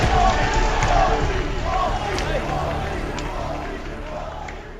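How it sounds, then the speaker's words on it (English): A large crowd at a Halo esports championship roars and cheers in a dense, loud wash that slowly fades, with a voice talking over it. "And the crowd now erupts for WALSHY and the rest of Instinct."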